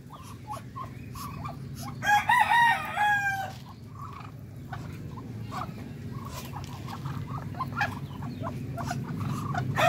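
A darag breeder rooster crows once, loud and close, over a steady rural background of clucking fowl and farmyard noise.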